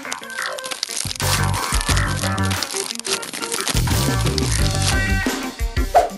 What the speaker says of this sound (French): Je vais commencer par éplucher.